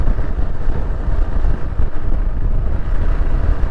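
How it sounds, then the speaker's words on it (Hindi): Cold mountain wind blows steadily across the microphone on a road with small roadside temples in the hills near Dharchula, giving a loud, continuous rumbling buffet with no talk. "बहुत ठंडी हवा चल रही है,"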